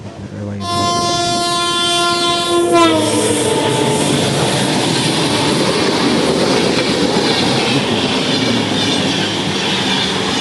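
A loud train horn blasts for a couple of seconds, then the steady rumble and rattle of a moving train carries on close by.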